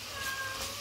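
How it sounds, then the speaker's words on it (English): A cat meows once in a drawn-out, steady cry close by, heard in a kitchen with no talk over it. "He's meowing."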